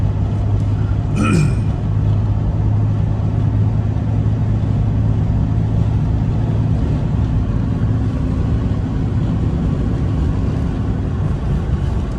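A 1990 Chrysler TC by Maserati with a four-speed transmission cruises on the freeway at about 75 mph and 2400 rpm, giving a steady, loud, low engine and road drone with a brief higher sound near the start.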